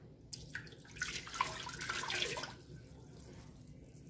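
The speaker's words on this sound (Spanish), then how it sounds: "Vamos a poner el agua." Water poured from a tap into a cooking pot while making sweet pumpkin, a soft splashing and running flow that swells for a couple of seconds and then trails off, fairly faint and with no voice over it.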